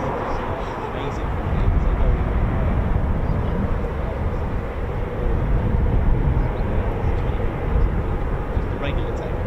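Eurofighter Typhoon FGR4 jet at RAF Lossiemouth, a loud, steady broadband roar that fills the whole clip with slight swells, heard from the airfield perimeter.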